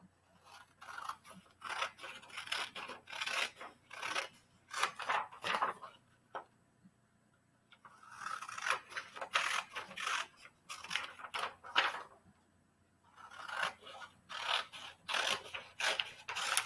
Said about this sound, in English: We're going to need to cut this story out.